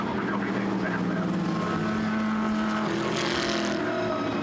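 Race cars sweep through a right-hand corner in a motor race, their engines droning and shifting pitch as they pass, with a commentator talking over the steady noise.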